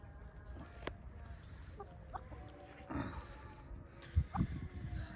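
Backyard hens clucking and calling, scattered short clucks and a few louder squawks at moderate distance over faint ambient noise.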